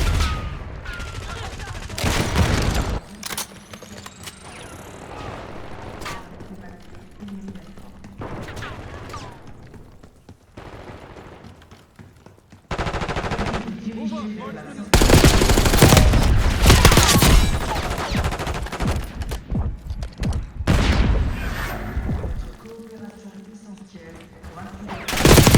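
Bursts of automatic gunfire and explosive shots from Call of Duty: Black Ops 6 multiplayer come in loud volleys with gaps between them, mixed with game music while a player talks.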